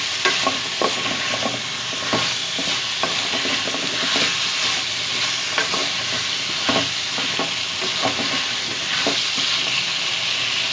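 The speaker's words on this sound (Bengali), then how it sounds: "এখন সব মশলার সাথে এগুলো আমি ভালো করে একটু নেড়েচেড়ে মিশিয়ে নিচ্ছি" Small pumpkin pieces fry with spices in a pan, a loud continuous sizzle with frequent scraping stirs and light clatter throughout, close up and without any talking.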